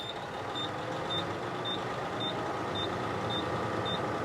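A truck's engine runs at raised RPM to build air pressure, a steady close drone under a regular series of high reversing-style beeps repeating about every half second.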